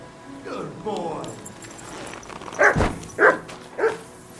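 In the video game Kingdom Come Deliverance 2, a dog gives a few loud, close barks in a quick series, mixed with whining yelps and voices talking.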